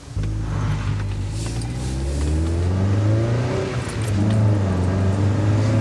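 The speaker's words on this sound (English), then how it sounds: "I was keen to have a go in the MX-5" Mazda MX-5 sports car accelerating, a steady mid-pitched engine drone rising through the revs, heard close from inside the car with no talk.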